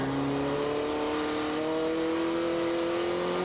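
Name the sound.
drift car engine revving on the hill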